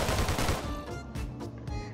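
Rapid bursts of machine gun fire crackle in quick succession in Minecraft with the Techguns mod, loud and sharp, with no talking.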